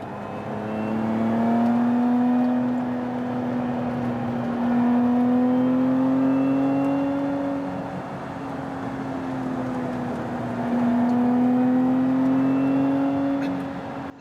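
Lotus Emira sports car driven on the North Carolina Center for Automotive Research track in normal drive mode, its engine note loud and close as it rises and falls through repeated acceleration and gear changes, with no talk.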